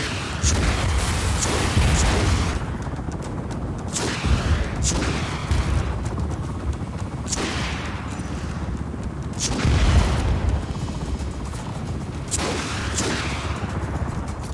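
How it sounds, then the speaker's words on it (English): Rocket explosions pound a dome in Just Cause 4, a loud, dense barrage of booms and blasts arriving every second or two over continuous rumbling battle noise, with no speech. "I'm just gonna shoot rockets at this entire dome."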